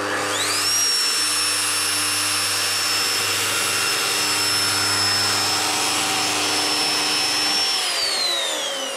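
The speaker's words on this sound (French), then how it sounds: "La rainure est fraisée." A Festool PF 1200 groove router cuts a groove through an aluminium composite panel. It spins up to a loud, steady, high whine that holds for several seconds, then winds down at the end, up close with no voices.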